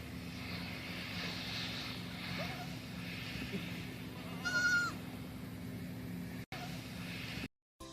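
Goat kids bleat in one short, nasal bleat about midway, over a constant low background hum, with the sound cutting out briefly near the end.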